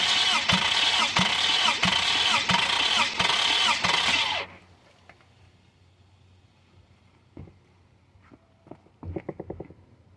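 A Toyota engine sitting out of the vehicle is cranked by its starter, jumpered from the solenoid signal terminal to the battery positive. It gives about four seconds of loud, rhythmic chugging, then stops abruptly, leaving quiet room tone and a few light metallic clinks.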